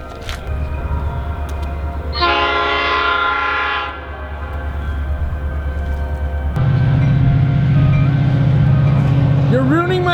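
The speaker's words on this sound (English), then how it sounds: "God damn the train." A train rolls past close by, a loud horn blaring steadily for a couple of seconds before a heavy, continuous rumble of railcars fills the rest, while someone talks over it near a propane forge being built outdoors.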